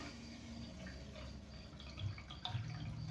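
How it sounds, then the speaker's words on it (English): Water from an overflowing toilet tank trickles and drips steadily, a close, low wash of leaking water with a few brighter drip spots toward the end. "Now it's leaking from here real bad."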